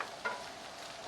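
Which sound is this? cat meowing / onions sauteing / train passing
onions sauteing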